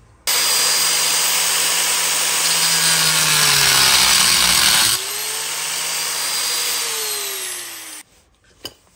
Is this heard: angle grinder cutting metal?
yes